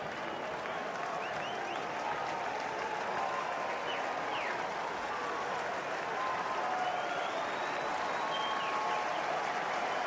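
A baseball stadium crowd at a Braves vs Reds game roars and applauds continuously, a broad, sustained wall of cheering with scattered whistles over the full stretch.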